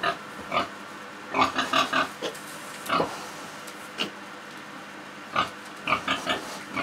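Orphan piglets on a small farm grunt and squeal while being fed milk. Close, intermittent bursts of oinking sit over a quiet background.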